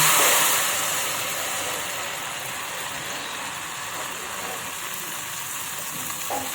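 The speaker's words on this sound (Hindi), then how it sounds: "जैसे ही आप इसमें बैटर डालते हैं, घी ऊपर आ जाता है" Ghevar batter poured into hot ghee fries with a strong, even sizzle. It is loudest at the first pour, then settles into a continuous frying hiss with no talking.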